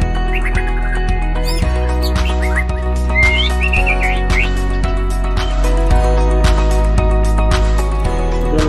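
An oriental magpie-robin chirps and whistles in short varied phrases, clear and close, over a steady low hum and some faint clattering.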